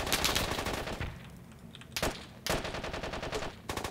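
Rapid automatic machine gun fire from the military video game Squad, dense bursts of shots that pause briefly and resume, loud and close.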